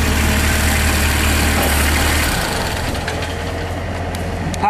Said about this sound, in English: D1105 3-cylinder diesel engine.